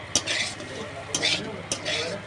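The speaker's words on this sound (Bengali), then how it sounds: "আলু ভাজছি" Potatoes frying in a pan while being stirred, with three sharp scraping strokes of a spatula over a steady low sizzle, close and moderately loud.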